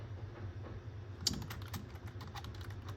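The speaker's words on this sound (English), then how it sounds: "I would simply type an answer" Rapid keystrokes on a computer keyboard start about a second in and continue as a steady, close patter of clicks over a low background hum.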